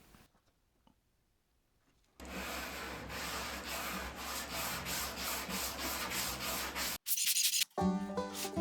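Sandpaper rubbing rhythmically over cured two-part epoxy putty on wood, beginning after a quiet stretch and continuing as steady close back-and-forth scratching strokes, then ending in a brief harsh burst of noise.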